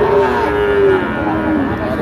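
A Sahiwal or Nepali Gir bull calf lows loudly and close at a cattle market in Joypurhat, one sustained moo over a noisy crowd background.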